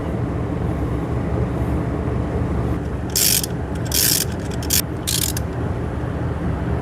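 Ratchet clicking in short bursts while new spark plugs are threaded back into a Jeep Wrangler engine, four quick ratcheting runs over steady background noise, close and moderately loud.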